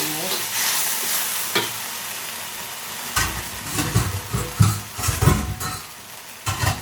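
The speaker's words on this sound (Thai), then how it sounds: "ใส่หมูนะครับ ผัดกระหล่ำปี" Cabbage and marinated pork are stir-fried in a hot pan in a home kitchen: a steady sizzle with repeated scraping stirs and clattering spatula strokes, louder and busier in the second half, with no talking.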